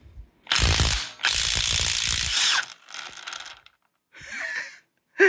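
A Milwaukee M12 stubby impact wrench with an XC 5.0 battery hammers at a bolt on a Mazda MZR 2.3 engine: two long, loud rattling bursts, then shorter, fainter ones in a quiet shop.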